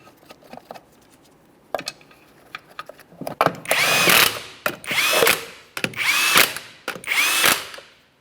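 Power tool driving lug nuts onto a 1994-1997 Honda Accord wheel: a few faint clicks first, then four loud, close bursts of whirring and rattling, each lasting about a second with short gaps between.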